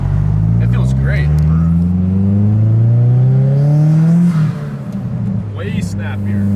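A Subaru fitted with tracks driving through the mountains, its engine droning loud and close with rising and falling revs and a steady mechanical whir.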